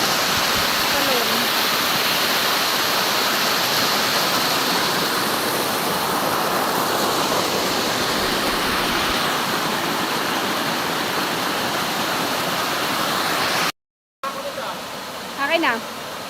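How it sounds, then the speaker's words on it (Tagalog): Mountain waterfall roaring as a constant loud broadband rush, heard close for the whole stretch, with a brief cut near the end and voices talking over the water. "Talon."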